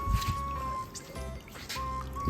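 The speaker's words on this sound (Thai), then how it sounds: "ที่เราเปิดไอ้นี่ไล่น้ำเนี่ยเพื่อให้ขี้กบมันไหลลง" Water runs and trickles into a giant African bullfrog enclosure to flush frog droppings away, with splashy drips and small bursts over a running flow; low sounds come through at moments.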